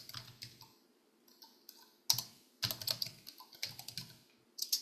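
Computer keyboard typing in bursts of quick, close clicks separated by brief pauses, with no voices.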